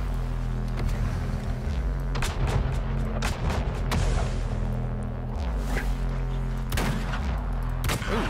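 A shotgun fires in the Weird West video game, several sharp, loud blasts at uneven intervals over a busy background of whooshes and game sounds.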